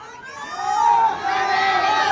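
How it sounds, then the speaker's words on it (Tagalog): A large crowd of Filipino protesters shouting angrily together in a loud, sustained roar against the president, voices rising and merging, heard from within the mass of people. "galit na galit ang sigaw ng sabayan ng Pilipino sa presidenteng ito"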